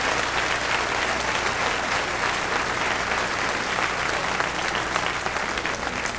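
A church congregation at a sermon breaks into sustained, dense applause that fills the whole stretch evenly, loud and close, with no voices rising above it.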